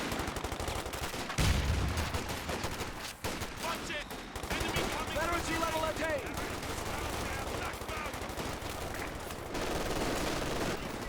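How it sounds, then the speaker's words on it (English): In Company of Heroes 2, a strafing run rattles down as a dense, continuous burst of rapid gunfire, with an especially heavy hit early on, playing under ongoing commentary for the whole length. "in comes the strafing run from Pineapple"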